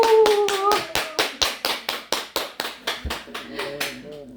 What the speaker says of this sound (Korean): 다 함께 박수와 환호성을 크게